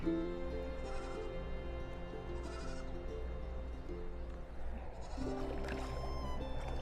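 A lamb on a farm in Ajman, UAE, bleats faintly and distantly several times, with a higher, louder cry near the end against a low steady hum.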